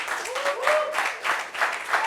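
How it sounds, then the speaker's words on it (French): Audience applause for a guest on a discussion show, a short burst of clapping in uneven surges with a voice calling out over it. "Applaudissements pour Ijazi Axel, s'il vous plaît."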